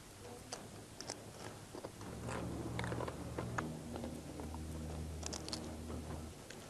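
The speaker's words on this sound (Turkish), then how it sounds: "yaz kış kuru tarhanayı kıtır kıtır yiyorlar" Dry Kahramanmaraş tarhana eaten as a snack gives close, crisp crunching and chewing, with steady bites over faint background noise.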